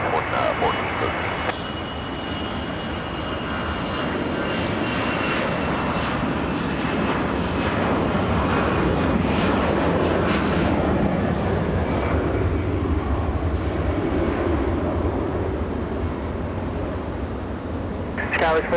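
A United airliner lands on runway 24 right at LAX, its engines giving a steady, loud broadband roar that holds for the whole stretch and gently swells and fades, with an air traffic control voice over it.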